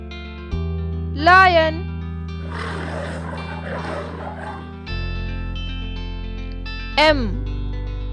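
Lion roaring in a children's alphabet lesson, rendered as a short cartoonish roar with sweeping tonal cries at the start and end, loud and close over steady background music.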